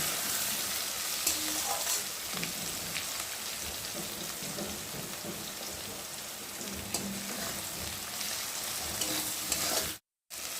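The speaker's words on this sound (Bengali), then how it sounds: "তো দেখো বন্ধুরা মশলাটা ভালোভাবে কষানো হয়ে গেছে আর মশলা থেকে তেলও ছেড়ে দিয়েছে" Spice paste with chili powder frying in oil for a bhola fish curry sizzles continuously and closely, with steady stirring and scraping, until a brief dropout near the end.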